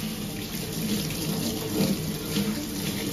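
Tap water runs steadily into a sink while fruits and strawberries are washed under it, a constant close splashing rush with slight variations and no speech.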